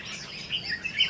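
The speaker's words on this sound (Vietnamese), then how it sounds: "Toàn chim non, chim má trắng này." Young wild birds, white-cheeked birds and white-eyes feeding outdoors, give a few soft, high chirps at moderate distance.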